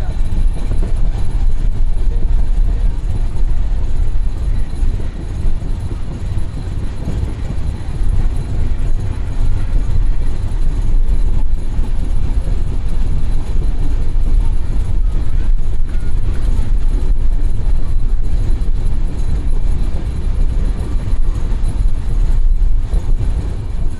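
A Dhrutojan Express passenger train running past a newly built railway station near the Jamuna bridge on the Dinajpur to Dhaka line, a steady loud rumble of wheels and carriages heard from aboard, continuous throughout with no break.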